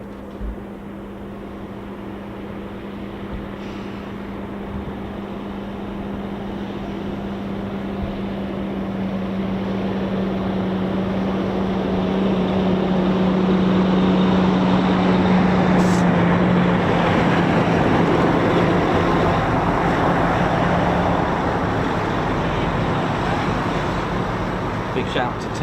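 A KC-135 tanker aircraft taxis in the opposite direction along the runway at an RAF airfield, its jet engines a broad steady roar that swells gradually as it draws nearer, with no talking.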